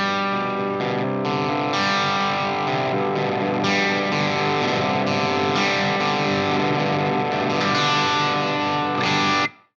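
Ibanez AS7328 baritone guitar played through ambient effects with distortion and chorus, a thick, sustained, layered wash of chords ringing continuously and loud for nearly ten seconds before cutting off.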